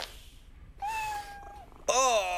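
A cat meows in a short scene, a clear drawn-out mew followed by a louder, higher-pitched cry, close and fairly loud over quiet background.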